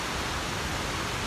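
Goðafoss waterfall in Iceland roars as a dense, steady wash of rushing water, loud and close, with no voices over it.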